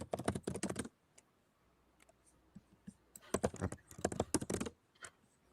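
Fast bursts of typing on a computer keyboard, dense key clicks in two clusters separated by a short quiet gap with a few isolated taps, close and fairly faint, with no voices.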